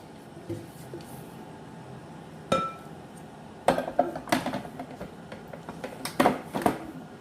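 Pulsed no-bake peanut butter granola bar mixture stirred in a large bowl, giving scattered clinks and scraping knocks of a utensil against the bowl, with a few louder bursts later on and no talking.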